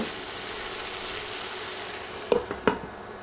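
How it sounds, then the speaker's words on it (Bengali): Mixed vegetables with chopped tomato are stirred in a pan, a soft continuous sizzle followed by a few sharp scrapes and knocks of the spoon near the end. "একটা টমেটো কেটে দিলাম আবারও নেড়ে মিশিয়ে দিচ্ছি"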